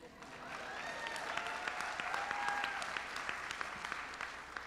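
An audience at a state superintendent's inauguration ceremony claps in a steady, even round of applause that swells slightly midway and holds at moderate distance.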